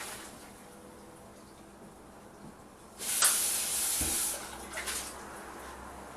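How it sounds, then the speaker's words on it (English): Hot water from a pot of boiled carrots pours through a colander into a sink, a sudden loud rushing splash lasting about two seconds. A trailing trickle and drips follow over a quiet kitchen hum. "So we're going to take these over to the colander carefully so I don't spill them all over the floor"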